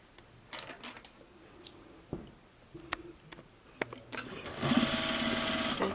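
A sewing machine stitching a cloth face mask makes scattered clicks and taps before whirring into a short continuous run near the end, close and without talk.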